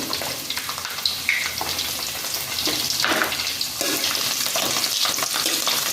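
Garlic fries in oil for a lemon pickle, giving a loud, steady, close sizzling hiss with bubbling and occasional stirring scrapes throughout.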